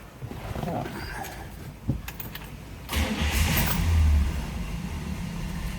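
A 1965 Buick Riviera's engine cranks and catches about halfway through, then settles into a steady, smooth idle close by, with someone talking over it.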